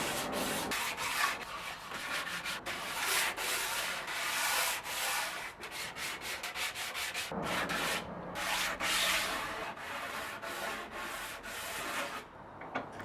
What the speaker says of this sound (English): Afterwards all edges are sanded briefly so that no splinters protrude where you can cut yourself